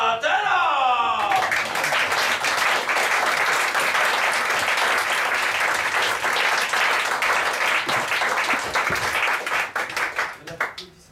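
Warm audience applause breaks out after a performer is introduced on stage, continuous dense clapping for about ten seconds before tapering off, following a brief musical flourish at the start.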